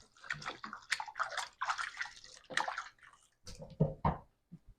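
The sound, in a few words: hands being washed under running water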